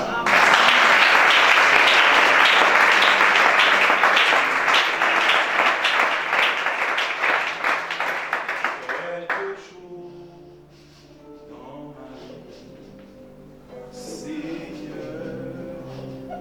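A church congregation at a deliverance worship service bursts into loud, sustained applause that fills the room for several seconds, then fades as music and voices carry on underneath.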